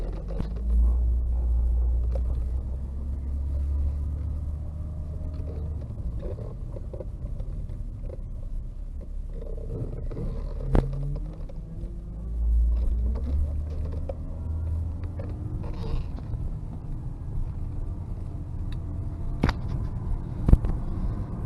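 A 1992 Toyota Soarer twin turbo, right-hand drive and low on fuel, drives along with a steady low engine rumble and road roar, plus a few sharp creaks and knocks from the cabin.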